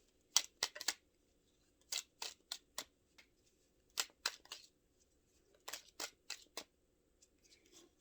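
Tarot cards are cut and shuffled by hand in sharp crisp snaps and riffles that come in quick clusters with short pauses between, close and clear against a silent background.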